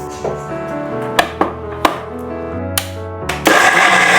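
Kitchen mixer grinder blending cumin, onion and garlic with water, loud and close, a steady motor whir with several sharp thumps and knocks as the jar jolts, then a louder whirring surge at the end.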